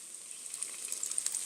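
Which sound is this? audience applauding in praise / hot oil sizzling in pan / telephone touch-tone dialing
hot oil sizzling in pan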